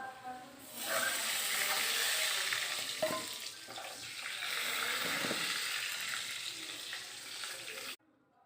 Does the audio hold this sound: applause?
no